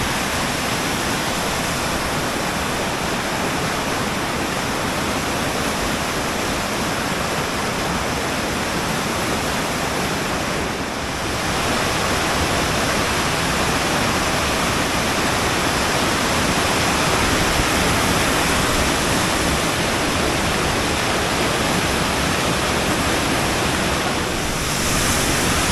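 Skjervsfossen waterfall in Norway roars as a steady, dense, loud rush of falling water heard close up, unbroken for the whole stretch with no voices.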